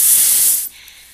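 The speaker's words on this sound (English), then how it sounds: "Notice how the balloon is getting smaller when you tell me things that make you happy?" A loud, steady hiss of air rushing out of a deflating balloon, which cuts off abruptly partway through and leaves near silence.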